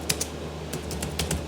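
Computer keyboard keys tapped in short quick bursts while an SQL query is typed, with crisp clicks separated by brief pauses over a faint steady hum.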